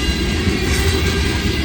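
CSX freight train B773 led by flagship locomotive 3118 passing through Woodbine toward Baltimore: a loud, steady rumble of rolling railcars with a continuous wheel roar and faint clatter, close by and without talk.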